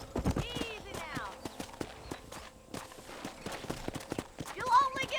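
Horse hooves clip-clop steadily at a walking pace during a ride in Red Dead Redemption, with a short whinny and voices talking over the rhythmic beats.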